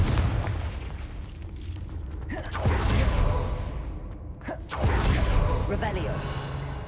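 In the Hogwarts Legacy video game, a Confringo spell blasts out in whooshing bursts and explosive booms over a dense, continuous game soundscape, with several swelling impacts in sequence.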